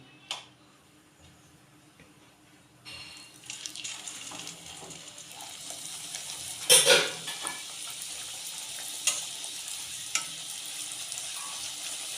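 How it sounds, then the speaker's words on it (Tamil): Chola poori dough frying in heated oil gives a steady, close sizzle that swells as the dough goes in, with a few sharper bubbling bursts and faint clinks. "இப்போ இது எண்ணெயை காய வச்சுருக்கேன். இதை போட்டு பொரித்து எடுத்துக்கலாம்."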